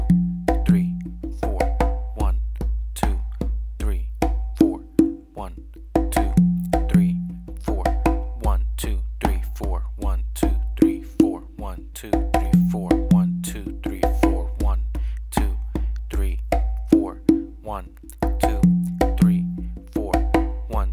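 Congas play a syncopated exercise at a slow tempo, with sharp slaps and open tones repeating in a steady cycle and resonant pitched notes ringing out between the strokes.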